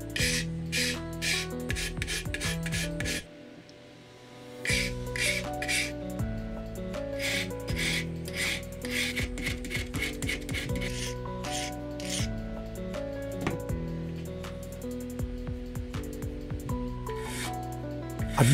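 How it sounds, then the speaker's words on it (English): Rhythmic rasping strokes of a large coarse file shaping a steel scorper blank, repeated back and forth at close range with a short pause early on. "I've used a relatively large coarse file to generate the rough tool shape"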